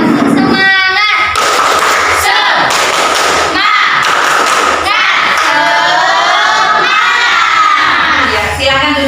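A class of primary schoolchildren in a classroom loudly chant and clap a 'tepuk semangat' spirit routine led by a pupil, with rhythmic claps and thumps under continuous shouted young voices.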